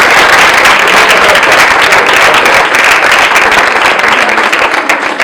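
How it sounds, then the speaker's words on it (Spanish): Loud, dense applause from an audience at a talk in a classroom, a steady wash of many hands clapping at close range that continues throughout and thins slightly at the end. "el gran aplauso que le vamos a brindar aquí a Ismael."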